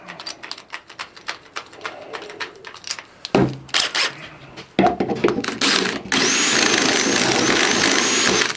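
Power drill fitted with Cleveland drill bits being pushed hard into metal, with scattered clicks and knocks, then bursts of motor whine that settle into a loud, continuous grinding run at the end.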